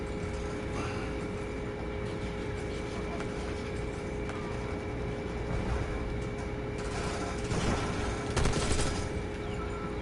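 Call of Duty Black Ops 6 gunfire crackles under a dense, noisy game mix, with short bursts of shots and a louder flurry near the end, while a player talks throughout.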